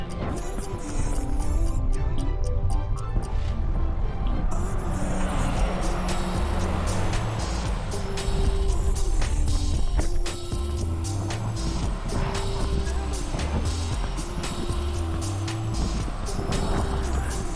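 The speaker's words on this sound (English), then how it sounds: "Look, car behind." A car on a road near a Hardriders time trial in Roxton comes up behind a cyclist, a loud steady engine and tyre roar close by, mixed with wind buffeting and a throbbing drone.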